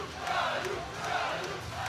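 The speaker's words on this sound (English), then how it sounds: "the crowd is singing Caillou, Caillou for our guy" A crowd at a powerlifting meet chants a name in unison for a lifter, a loud, sustained mass of voices filling the room for a couple of seconds.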